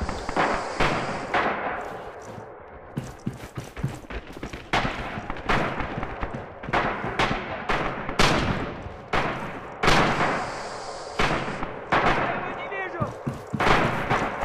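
Dense gunfire and grenade blasts from the Return to Cold Steel video game, with rapid rifle shots and sharp bursts crackling continuously through the whole stretch, heavy and close, with shouted voices mixed in.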